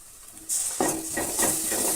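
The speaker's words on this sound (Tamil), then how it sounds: "இஞ்சி சேர்த்து நல்லா கலந்து விட்டுருங்க" Ginger garlic paste is stirred into onions frying in a pan for a drumstick and potato kuruma, with a steady bright sizzle and soft spoon scrapes that start up as the paste goes in.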